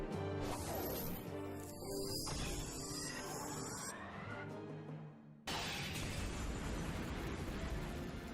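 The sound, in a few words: rock sword breaking, Fate/Stay Night visual novel game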